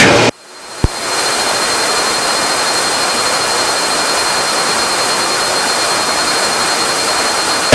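A Cessna 340 twin's engine roars as the right throttle is pushed up in flight, a loud, steady cabin drone filling the whole stretch after a brief dip and click at the start.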